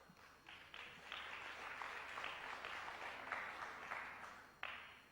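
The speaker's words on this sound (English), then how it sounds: "Crowd appreciating how difficult it's going to be for Davis to get anywhere from this position though" A crowd at a professional pool match between Efren Reyes and Steve Davis applauds for several seconds, a steady wash of clapping heard at a distance.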